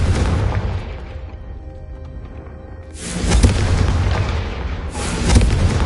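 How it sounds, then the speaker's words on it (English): A Confringo fire spell blasts in the Hogwarts Legacy video game, heard as two loud, booming explosive bursts with a rumbling tail after a quieter stretch. "a Confringo cast travels a bit farther than that of a spell like Incendio"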